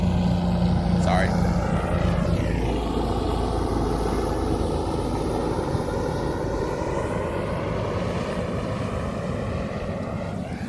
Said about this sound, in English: Instead of trying to fight the helicopter, I figured I'd just show it to you.